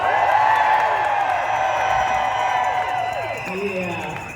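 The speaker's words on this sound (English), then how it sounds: "Give me a cheer if you participated in a boycott this year." Crowd at a protest rally in Denver cheering loudly and steadily throughout, a dense mass of voices and whoops with no pauses.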